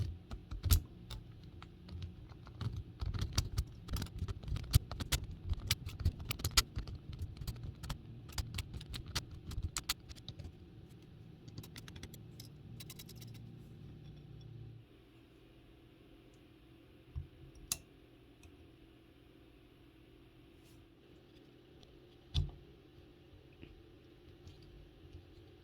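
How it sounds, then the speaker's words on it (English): A Gilbert clock mainspring being slowly unwound, its click ratcheting in a dense run of small metallic ticks and clicks for the first fifteen seconds, then a quiet stretch with a few isolated clicks. "slowly and carefully unwind the mainspring"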